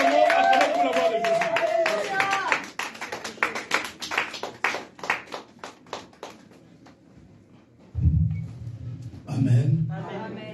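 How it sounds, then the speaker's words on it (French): A church congregation claps and cheers in a lively burst under a loud French-speaking voice, with rhythmic hand claps that fade before shouts swell again near the end. "nous allons les recevoir avec des acclamations dans le nom puissant de Jésus"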